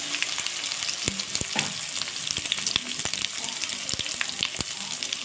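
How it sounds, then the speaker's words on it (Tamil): Cut okra (lady's finger) frying in hot oil with curry leaves for a soft stir-fried poriyal, a steady close sizzle and crackle with sharp clicks and knocks of stirring scattered throughout. "இப்போ நம்ம வெட்டி வச்சுருக்க வெண்டைக்காவை இதில் சேர்த்துக்கலாம்"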